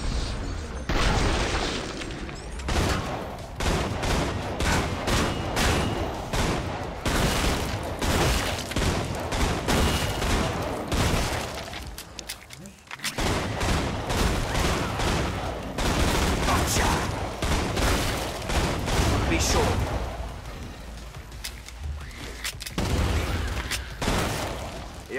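Gunfire in the zombie shooter Killing Floor, Hell on Earth difficulty, rapid dense volleys of shots crackling almost nonstop with booms and shattering hits, loud and close, with game voices breaking in at moments.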